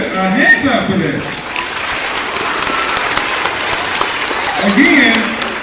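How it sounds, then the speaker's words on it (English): Audience applause and hand clapping at a school gathering with children, a steady crowd clap filling the whole stretch while a voice talks over it. "Can we get a hand clap for that?"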